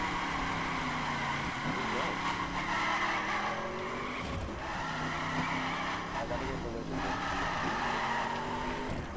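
A Lamborghini drifting in the racing video game The Crew, with a continuous loud tire squeal and engine drone that rise and fall as the car slides and shifts, steady throughout with no pause.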